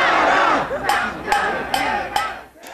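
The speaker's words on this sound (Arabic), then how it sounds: "المتظاهرون رددوا هتافات تدعو إلى رحيل بارك أو إيداعها السجن على وقع قرع الطبول" A large crowd of protesters in a Seoul street demonstration chants slogans calling for the president's removal, loud rhythmic massed voices in repeated phrases with sharp drum beats punctuating them.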